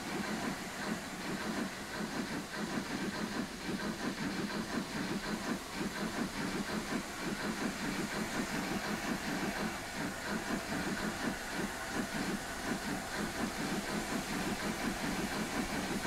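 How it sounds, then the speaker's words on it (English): Steam locomotive pulling out of a station in Transport Fever 2, a steady chuffing rumble with hiss and rail noise, fairly distant and continuous throughout with no talk. "another steam locomotive pulling out there"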